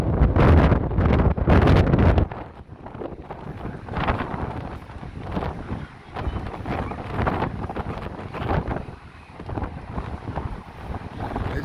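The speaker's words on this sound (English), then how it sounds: "You're like leaning forward against the wind." Strong gusting wind buffets the microphone on the Blackpool seafront promenade, a loud roaring blast at first, then easing into fluctuating, rushing gusts that rise and fall throughout.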